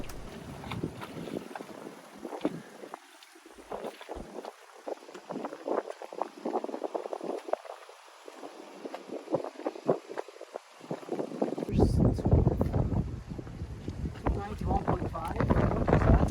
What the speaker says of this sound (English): we had to work with the wind there was. Which was a lot, like 25 knots a lot.